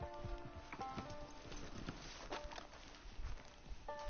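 Horse hooves clopping at a steady walk in the video game Red Dead Online, with game music and ambient tones playing throughout.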